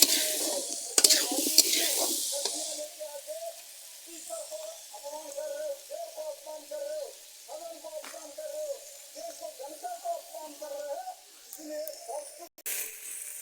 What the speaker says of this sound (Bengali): উনানে মাংস রান্না খুব ভালো টেস্ট হয় খেতে ভালো লাগে তাই জন্য আজকের উনানে রান্না করছি